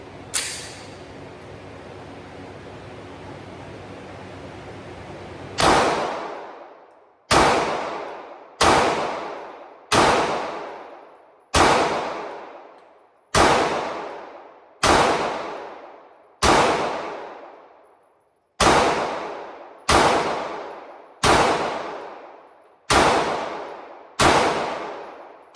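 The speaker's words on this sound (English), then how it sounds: "So let's shoot a few and see how we can do." Staccato C2 pistol fired at targets down a road outdoors: after a few seconds of steady background hiss, a run of about fourteen loud, sharp gunshots follows at a quick, fairly even pace, each with a ringing decay.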